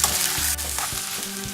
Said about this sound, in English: We're just gonna fry it a little bit so it will absorb the flavor of the garlic and the onion.